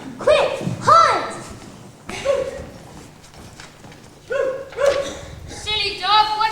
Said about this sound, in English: Silly dog, what do you mean by all this fuss?